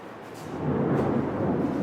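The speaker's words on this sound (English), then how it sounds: "Oh, that thunder?" Thunder rumbling outdoors near a fire, a broad low roar that swells louder partway through and holds steady without any voices.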